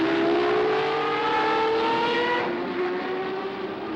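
Race cars at the 1973 Le Mans 24 Hours circuit, a loud sustained engine drone with rising and falling pitch as cars pass, steady and close, fading slightly toward the end.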